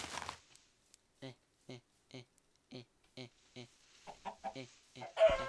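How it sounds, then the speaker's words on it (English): A Minecraft chicken clucks in a long run of short, evenly spaced clucks, clear and close, with brief bursts of a voice and game noise at the start and end. "Chicken."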